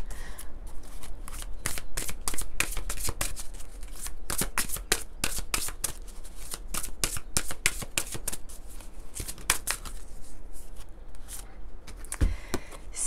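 Oracle cards of energy mandalas being shuffled by hand, a steady run of crisp riffling slaps and flicks close up, continuing alone for the whole stretch without any talk.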